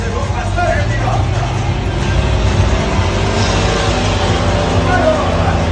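A monster truck engine roars in a loud, sustained growl during a second show pass through the streets of a theme park, with crowd noise mixed in.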